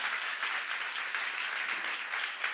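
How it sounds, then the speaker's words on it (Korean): A church congregation applauds, giving dense, steady clapping that fills the room at a moderate level without pause. There is no voice over it. "예수님 박수 치려면 세게 치라고"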